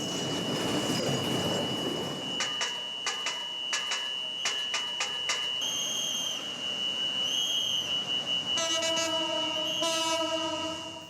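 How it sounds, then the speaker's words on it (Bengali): A train rumbles past, wheels clattering in rhythmic bursts, then a loud horn blasts twice close by as it passes. "সংকেত ছাড়াই চলছে ট্রেন।"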